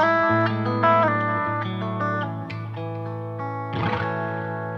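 Distorted Fender Stratocaster electric guitar through an amplifier, a series of sustained, harmonically rich notes and chords with gritty overdrive, ringing and decaying, ending in a brief scratchy strum, played alone with no talking.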